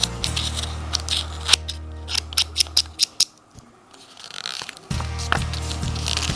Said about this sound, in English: After rolling, cut the excess thread and then cut the top part of our rolled thread